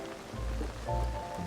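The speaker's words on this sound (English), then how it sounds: "The sound of the rain on top of the glider, like a little umbrella." Rain patters steadily on the paraglider in Zelda: Tears of the Kingdom, a soft, even drumming like rain on a small umbrella, with a low game tone underneath and no talking.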